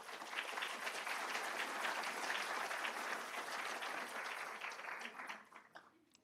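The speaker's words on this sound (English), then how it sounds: "let's give them all a round of applause" An audience at an Indian River Lagoon symposium breaks into sustained applause, a dense wash of clapping that holds steady for several seconds before tapering off.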